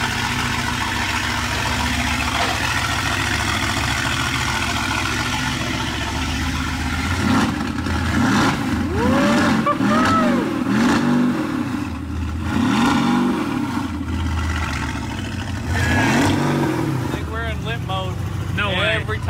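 A Mercedes-AMG GT S, rebuilt after a wreck, revs hard in repeated rising and falling bursts with a loud, steady engine rumble underneath, while people talk over the noise.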